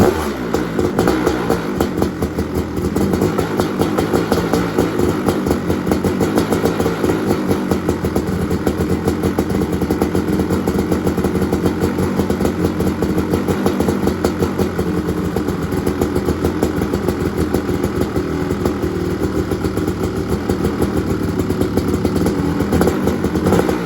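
A Kawasaki KX500 two-stroke dirt bike engine runs loud and close for the whole stretch, a steady raspy drone with slight surges in revs and no talking over it.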